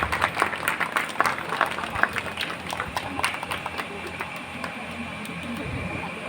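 Audience applause at a Gujarati community general assembly as a magazine is released, a dense crowd of claps with sharp individual hand slaps over steady room noise.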